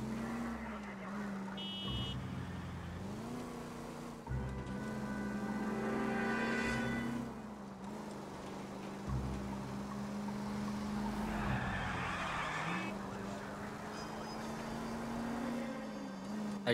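A car driving in the video game L.A. Noire, its engine droning steadily with shifting pitch, tires squealing and skidding at times, with game dialogue and a voice talking over it.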